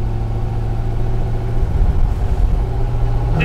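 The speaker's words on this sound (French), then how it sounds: "Elle fait beaucoup de bruit à l'échappement" A Plymouth Barracuda V8 runs steadily at idle with a deep, loud exhaust rumble, close by, swelling briefly louder partway through as if blipped.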